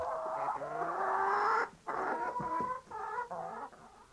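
A hen clucks and croons in drawn-out calls, close by, with a short pause midway before several choppier clucks follow.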